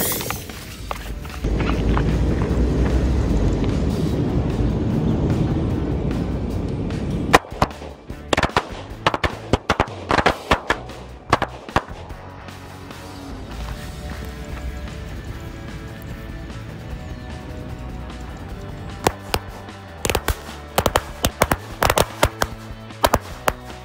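Two matchstick firecrackers explode inside a bottle: a fizzing hiss gives way to a rapid, irregular series of sharp cracking pops, scattered over many seconds, loud and close.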